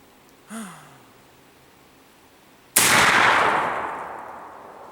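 Outdoors, a black powder gun fires once with a loud, sharp blast that rolls off into a long decaying boom. Before the shot comes a brief, faint vocal-like sound.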